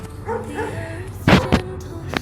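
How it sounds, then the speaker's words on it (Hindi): A pack of street dogs gives two sharp, fairly close barks in quick succession, following a quieter stretch of faint background sound. "इस कंप्लेंट को देख कुत्ते ही भौंक रहे हैं कुछ"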